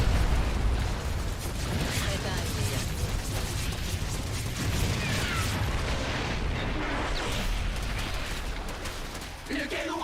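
Dense, continuous rumbling blasts and clattering mechanical noise from a StarCraft II battle as a cannon is destroyed, loud and unbroken for the whole stretch.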